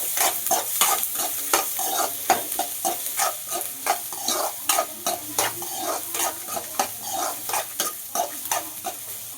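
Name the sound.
frying onion, green chilli and garlic in a pan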